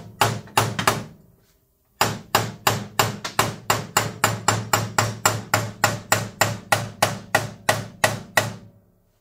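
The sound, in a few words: hitting lawn tractor axle part to fit it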